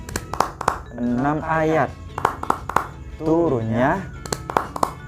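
Crisp, evenly spaced hand claps keep time alongside a sung Tepuk An-Nas chant about the Quran's Surah An-Nas, sharp claps falling between and under the chanting voice.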